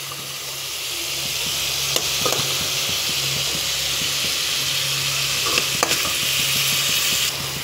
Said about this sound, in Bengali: তো আমার এই জায়গায় পেঁয়াজটা ভাজা ভাজা হয়ে গেছে